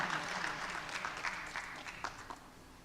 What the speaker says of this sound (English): Ladies and gentlemen, a big round of applause for Mr.